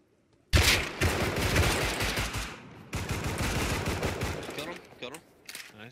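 Rapid bursts of gunfire in the video game Rust, loud and close, with dense volleys that pause briefly and then resume, joined by a few later scattered shots and faint voices beneath.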